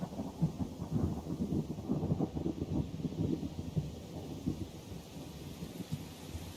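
Heavy rain pours down in a thunderstorm on the Aldina Plains in the video game Tales of Berseria, a steady dense patter with low rumbling underneath, moderately quiet and without voices.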